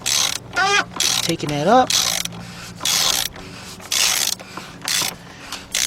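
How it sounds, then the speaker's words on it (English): A 1/2 inch drive ratchet clicks in repeated short bursts while loosening the oil filter on a 2016 Jeep Grand Cherokee 3.6, close and loud, with someone briefly talking between strokes. "just get a 1/2" drive ratchet guys, and you want to just slowly loosen that"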